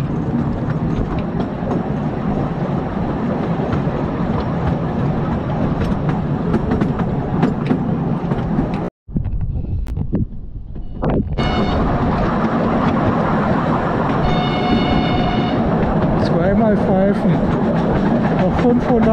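A park railway train in Vatterode rolls past on its tracks in August, a steady loud rumble with clattering wheels that drops out briefly midway before resuming, with faint tonal squeals later.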